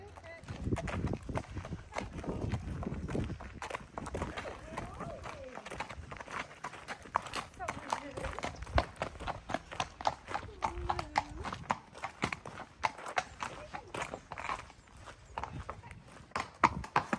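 Horse hooves clip-clop steadily and close on a countryside stable yard, a repeating rhythm of strikes running throughout, with a voice speaking and calling to the horse over the footfalls.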